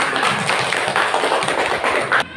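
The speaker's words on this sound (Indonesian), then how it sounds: "Kasih aplaus tepuk tangan." Classroom applause for a student group, dense continuous hand clapping from many people at close range that cuts off sharply near the end.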